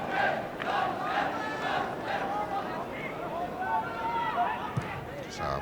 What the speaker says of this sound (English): a small crowd here at Swansea, but they were appreciative of Lund's attempts to drive a shot on target